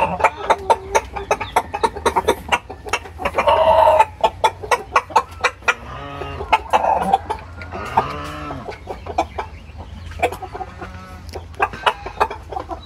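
Chickens cluck and squawk close by in a steady, busy chorus inside a freshly cleaned coop, with a few louder drawn-out calls standing out from the flock.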